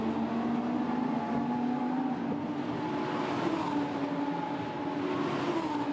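Lamborghini Super Trofeo race cars pass through Pouhon at Spa as a distant, steady engine drone with a sustained tone that shifts slightly in pitch, fairly faint and without any close pass-by peak.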